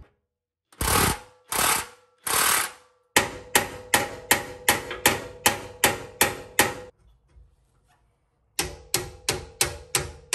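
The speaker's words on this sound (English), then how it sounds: "I need to take the hammer and just push these this way a little bit so the holes line up." Hammer blows knock a steel leaf spring into line on an overland trailer during a leaf spring upgrade: three loud separate strikes, then a quick run of ten evenly spaced metallic taps, a pause, and five more strikes.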